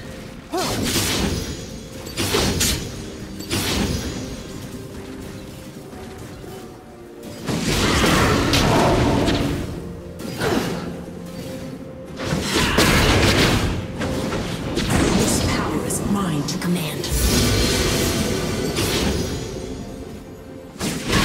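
A turret being destroyed in League of Legends, a loud booming crash with whooshing debris that rises and falls in several heavy waves, mixed with game effects and no speech.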